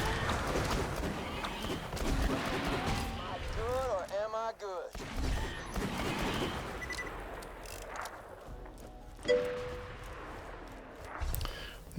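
Gunfire from a powerful weapon shooting stalkers in Borderlands 2, a few shots landing in quick succession amid dense game effects and a talking voice.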